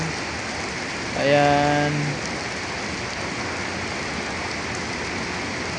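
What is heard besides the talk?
heavy rain falling at night in Manila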